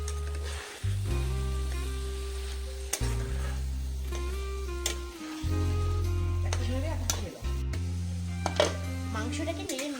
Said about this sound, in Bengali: মাংসটাকে নেড়ে নিব।